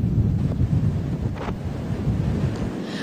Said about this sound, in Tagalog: Kaya ganito kalakas ang alon dito.